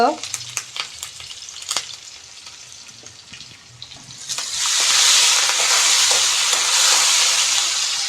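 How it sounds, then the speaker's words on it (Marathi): Green chili, curry leaves and asafoetida go into hot oil with browned garlic for dahi kadhi. Light clicks of stirring come first, then a loud, steady, close sizzling hiss that rises and holds to the end, with no talking. "इथं आपण टाकणार आहोत मिरची कढीपत्ता हिंग"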